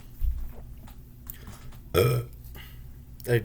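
A man burps twice during a casual spoken commentary. The first burp is short and low, the second briefly follows, both close but fairly quiet over a faint background hum.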